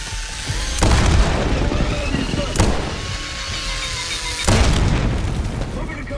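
Three heavy booming blasts erupt in a Call of Duty: Black Ops 6 battle, spaced a couple of seconds apart, each a loud burst that fades into rumbling noise.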